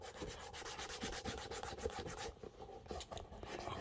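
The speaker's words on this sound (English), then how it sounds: "Rub it all over this way, rub it in" Cleaner being rubbed by hand onto a Clarks Wallabee shoe makes a steady, close scrubbing and rubbing sound with short repeated strokes that continue throughout, with no talking.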